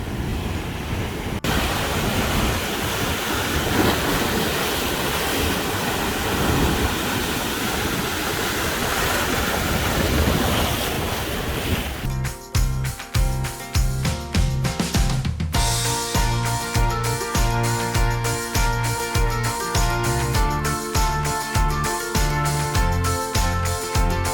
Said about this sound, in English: You're just watching the waves.